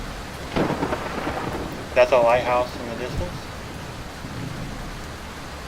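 Rain and rumbling thunder from a video game's dynamic weather system, a steady downpour hiss with a low thunder roll, while someone talks over it.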